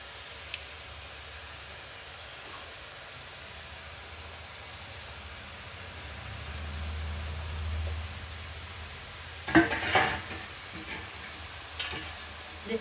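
Namkeen pakodiya batter frying in plenty of hot oil, a soft, steady sizzle with a low rumble swelling midway, then a few clattering knocks of utensils toward the end.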